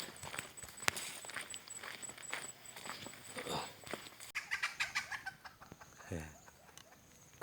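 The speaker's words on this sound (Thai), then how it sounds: "ไล่ไก่" Chickens in a forest farm near a banana grove, clucking and squawking from close by in short bursts as they are chased, with footsteps through leaves and a quiet voice in between.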